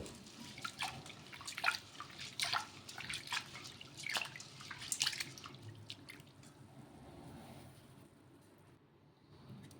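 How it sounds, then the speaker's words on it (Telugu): Moong dal being rinsed in water makes faint, close splashes and sloshing with dripping pours in uneven bursts, then a quieter trickle toward the end. "నేను నీళ్ళని పోసేసుకొని ఒక రెండు మూడు సార్లు అయితే కడిగేసుకుందాం"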